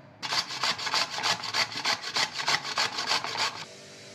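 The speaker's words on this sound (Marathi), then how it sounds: "आता आपण काकडी किसून घेऊया।" Peeled cucumber being finely grated by hand, a rapid regular series of about fifteen scraping strokes, close and fairly soft, with no talking.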